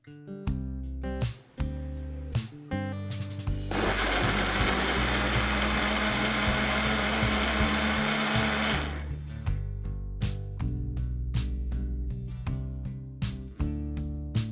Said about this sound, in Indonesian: Setelah itu blender sampai benar-benar tercampur.